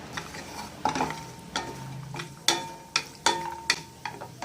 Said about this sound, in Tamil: முந்திரி பருப்பு போட்டு கொஞ்சம் செவக்க வறுத்துக்கிறோம்